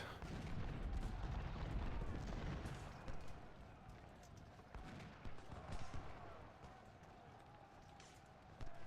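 Musket volleys crackle in Ultimate General: Civil War, a dense fusillade of distant shots with scattered single reports and a low rumble, faint and sustained.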